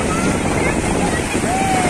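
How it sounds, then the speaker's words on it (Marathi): Sea waves wash onto a beach in a steady, broadband roar that fills the whole clip, mixed with wind buffeting the microphone. "समुद्राच्या लाटा बघा एकदम मस्त सुंदर असा व्ह्यू आहे"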